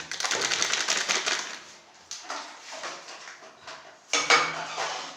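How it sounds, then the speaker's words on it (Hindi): Chicken tossed with black pepper and spice powder in a bowl, giving repeated clinking and scraping of a utensil against the bowl in uneven bursts, close and fairly loud, with brief pauses between strokes and no talking. "इसको करेंगे हम अच्छे से मिक्स।"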